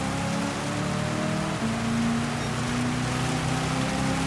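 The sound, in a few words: rain during a race in the video game Gran Turismo 7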